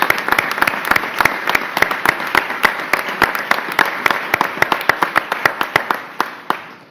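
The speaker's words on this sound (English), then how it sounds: "You deserve a round of applause." Steady applause from a crowd in a room at a healthcare announcement by the New York governor in Fredonia, dense and continuous, with sharp individual claps standing out and thinning slightly toward the end.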